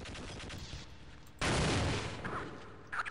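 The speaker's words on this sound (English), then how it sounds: "I'm going to shoot that open and then discharge the satchel." Gunfire and a satchel charge explosion in the video game Half-Life: rapid shots rattle, then a loud sudden blast hits and decays, followed by a few sharp bangs.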